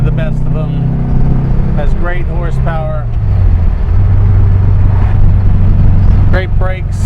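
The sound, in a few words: 1963 Porsche 356 Carrera 2 Coupe engine revving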